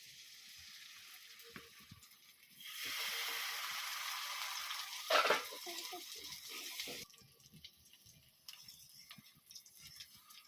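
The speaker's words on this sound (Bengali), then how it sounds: "আমি এখন রোলগুলোকে তেলের মধ্যে ভাজে নেব।" Rolls hit hot oil in a pan and set off a bright sizzling hiss that swells for a few seconds, then settles and fades to a soft background crackle.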